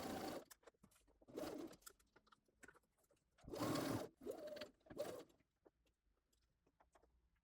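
A sewing machine stitches a frock seam with boning set aside, running in several short, loud bursts separated by quiet pauses and small clicks.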